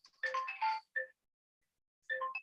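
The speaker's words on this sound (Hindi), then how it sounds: "मेरा ना कॉलेज से फोन आया" An incoming-call phone ringtone plays alone, a short melodic burst of chiming notes, then a brief pause, then the tune starting again; moderately quiet with no talk over it.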